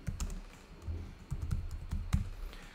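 Rapid, uneven keystrokes clatter on a computer keyboard as a visitor's name is typed into an Excel entry register, close and fairly quiet, with no one talking.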